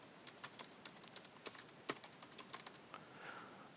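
Light, quick clicking on a computer keyboard, a soft irregular string of keystrokes with one sharper tap midway, heard close and alone in a quiet room.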